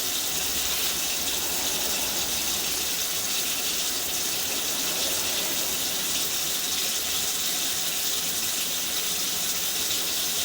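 Water flowing steadily through a drain pipe and trap in a building, a continuous broadband rush and hiss with a faint squeal, sustained at even loudness with no voices.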